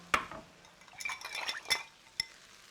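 Spoon clinking and scraping against a pan while tofu and noodles are stirred, a few sharp metallic taps and soft scrapes spread over a couple of seconds, close and fairly quiet.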